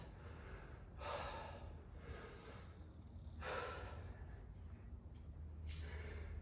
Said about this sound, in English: All I hear is my grunting and groaning, breathing and wheezing.